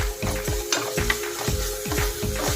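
Coconut-ginger masala paste fries with onions for a potato carrot curry, a steady close sizzle broken by repeated scraping stirs of a spoon against the pan at a brisk rhythm.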